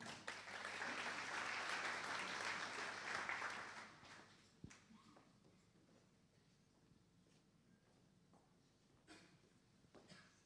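A conference audience at a Synology event in Paris bursts into applause for about four seconds, then the clapping dies away into a quiet room with scattered small noises.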